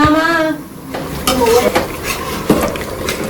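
A spoon scrapes and clatters in a metal pot as sizzling tempering is stirred into cooked mutton, with brief voices in the background.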